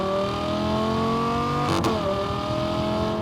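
A modified Lamborghini Gallardo LP560-4 with a 5.2-liter V10 accelerates hard in Corsa mode. It gives a loud, steady, rising engine drone, broken by a sharp gearshift midway before pulling on again.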